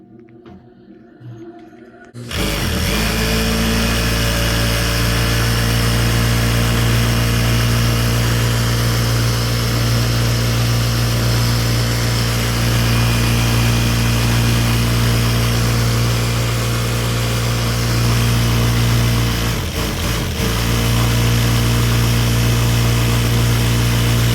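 A Juki high-speed industrial sewing machine with an oil leak near its rotating hook starts after a short quiet lead-in, then runs with a loud, steady motor hum and whine that holds nearly unchanged, dipping briefly once.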